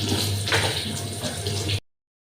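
Water runs steadily from an Aquaguard purifier tap into empty bottles, a close, continuous splashing pour that stops abruptly after under two seconds.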